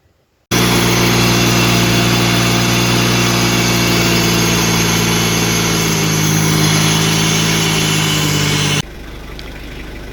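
An air compressor's engine starts abruptly and runs loud and steady with a constant droning hum and some rattle. It then drops to a quieter level near the end.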